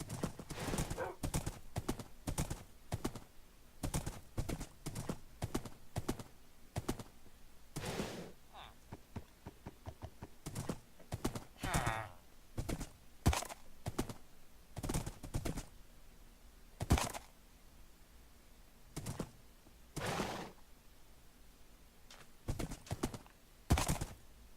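Horse hooves clip-clop in a steady rapid rhythm while riding across the Minecraft world, with an occasional whinny, moderately loud and close, with no talk over it.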